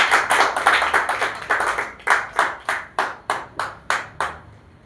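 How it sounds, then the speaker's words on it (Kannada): An audience at a stage event with gifts being handed out claps in a fast burst that thins into a dozen or so separate, evenly spaced claps as it dies away, close and fairly loud, with nobody speaking. "ಜೋರಾದ ಚಪ್ಪಾಳೆ ಹೊಡಿ."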